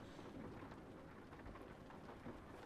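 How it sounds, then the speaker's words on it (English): Rain falling in the truck-driving game Euro Truck Simulator 2, a faint, steady wash of rain with a low rumble beneath it, with no talk. "Still raining."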